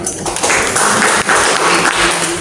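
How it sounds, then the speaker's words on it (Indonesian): An audience at a government job-training centre's annual evaluation event claps continuously, a dense, steady wash of many hands filling the room and cutting out with a brief dip midway. "Tepuk tangan untuk kita semua"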